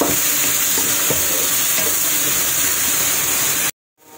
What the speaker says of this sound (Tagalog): i-add na natin yung ating sardinas. Mix lang natin yan. Igisa muna natin